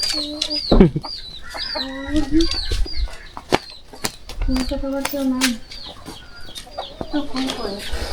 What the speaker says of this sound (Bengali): দেখেন যে মুরগিগুলো রেস্ট নিচ্ছে